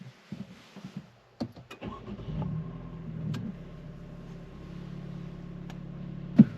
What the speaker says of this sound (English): But let's start it up.